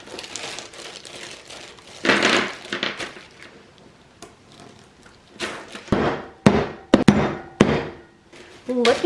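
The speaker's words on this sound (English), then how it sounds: "we're gonna crush them a bit beforehand. So I've got a little Ziploc plastic bag." Mini chocolate eggs are crushed inside a Ziploc plastic bag, producing bursts of crinkling plastic and sharp cracking thumps, sparse at first and then faster and louder near the end.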